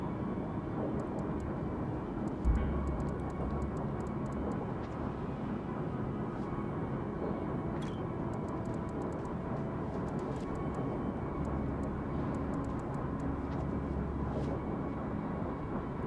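Aircraft drone overhead in the naval battle game World of Warships, a steady low engine rumble that holds for the whole stretch under faint clicks and interface blips, moderately loud and unbroken.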